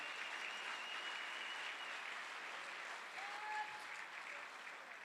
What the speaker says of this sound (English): Can we give him a nice round of applause